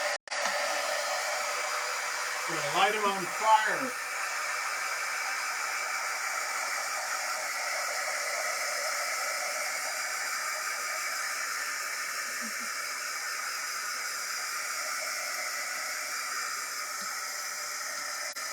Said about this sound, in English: I'm gonna get out my big daddy dryer.